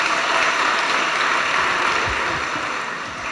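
Audience applause at a church youth seminar: a dense, sustained wash of many hands clapping at once, loud and even, slowly fading toward the end.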